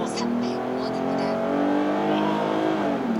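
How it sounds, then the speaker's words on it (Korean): Synthetic engine sound piped into the cabin of a new Hyundai Grandeur 3.5 AWD, a smooth rising rev-like drone heard from inside the car, with a person talking over it. "이게 지금 앞쪽에서 들리는 엔진 소음이 가상 사운드라는 거죠"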